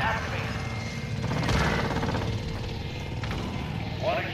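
A helicopter in a first-person shooter game thrums as a continuous rotor drone under game effects, swelling slightly midway, with voices talking over it.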